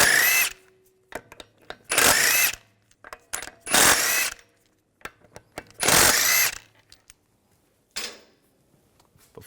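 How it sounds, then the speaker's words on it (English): A power tool with a 17mm socket spins lug bolts off the front wheel of a 2006-2010 BMW 550i. It gives four loud, close whirring bursts and a few shorter ratcheting blips, separated by quiet gaps. "Use a 17mm socket to take the lug bolts out."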